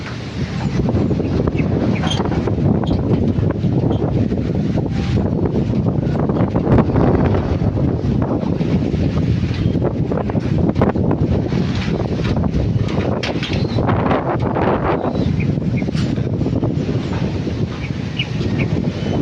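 Strong wind roars steadily against the microphone, a constant rushing blast with no letup and no voices.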